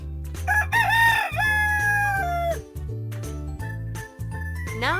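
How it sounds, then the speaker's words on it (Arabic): A rooster crows loudly and up close in a children's animal-names learning game, one long rising then falling call over a bouncy looping music track with chimes. "ديك،"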